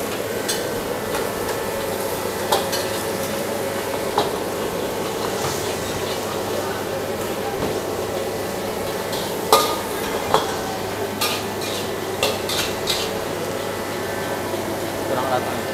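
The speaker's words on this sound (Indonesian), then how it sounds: "Mas Sahrul sedang bikin nasi goreng Singapura" Singapore fried rice being stir-fried in a pan, a steady sizzle with occasional sharp clinks and scrapes of a utensil against the pan, over a constant low hum of background noise.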